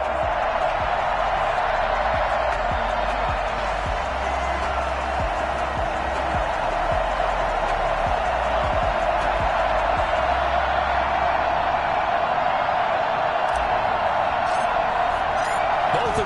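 Steady roar of a stadium crowd at an EA Sports NFL game between the Detroit Lions and the Atlanta Falcons, a dense, continuous wash of cheering noise that holds level throughout with no distinct bursts.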